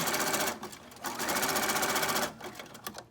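A sewing machine stitches down fabric scraps in fast, close bursts of rapid mechanical whirring, pausing briefly between runs, with no talk.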